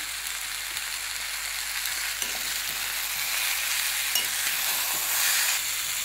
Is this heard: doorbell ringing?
no